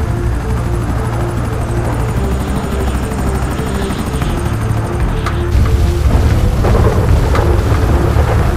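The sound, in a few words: helicopter flying in GTA 5 video game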